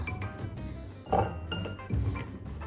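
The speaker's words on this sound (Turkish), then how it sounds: "Yıkanan bademleri sizin de görebilmeniz için şöyle bardağa" Washed almonds clink into a glass in two quick bursts, close and fairly bright, over a soft background hum.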